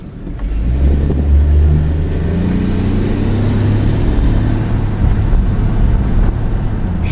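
A 1962 Ford Falcon station wagon engine accelerates with a loud, rising drone, heard from inside or near the car under rushing wind noise, the pitch climbing and settling as the gear shifts.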